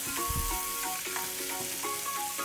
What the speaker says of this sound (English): Mix well and cook the spices with the onion, garlic and tomato very well.